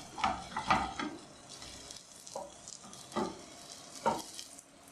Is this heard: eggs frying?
yes